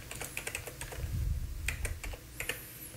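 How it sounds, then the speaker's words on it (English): Keys tapped on a Mac computer keyboard while a user password is entered, a quick irregular run of close, crisp clicks with short pauses between bursts, no speech. "So click on it and enter the password for the user."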